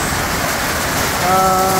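Steady rain hisses continuously at a foggy, cold mountain spring resort, close and fairly loud, with no pauses; a faint tonal whine creeps in near the end.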